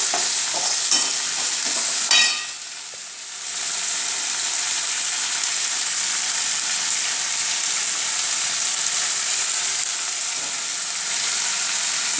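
Onions and tomato sautéing in a pan for a Madurai-style mutton chops curry: a continuous loud sizzle with a few scraping stirs and a clattering spoon stroke near the start, then the frying hiss carries on steadily.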